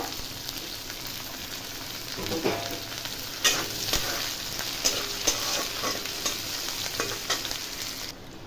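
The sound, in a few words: chopped onion and curry leaves frying in a pan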